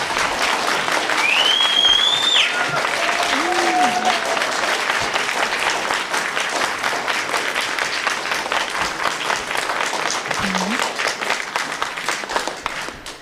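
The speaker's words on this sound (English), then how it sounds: "We can applaud." Audience applause fills a League of Women Voters candidate forum, steady dense clapping from a seated crowd that runs the whole stretch, with a few faint voices and a brief whistle-like tone riding on top.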